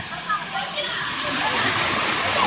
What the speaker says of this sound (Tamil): இங்க ஃபால்ஸ் இருக்குங்க